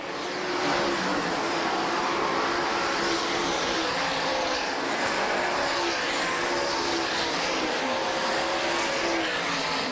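Big block modified race cars roar around the Sharon track on the final lap, a continuous loud engine drone with shifting pitch as the field circles, no voices.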